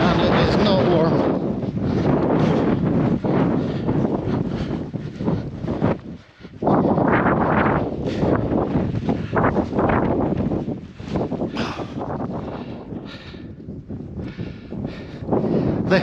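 A strong, steady 30-40 mph wind roars and buffets against the microphone on an exposed upland walking route, loud and nearly continuous, dipping briefly only once.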